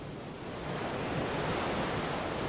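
Ocean waves and wind battering a ship stranded on the coast of Madagascar, a continuous loud roar of surf and gusting wind with no breaks and no voices.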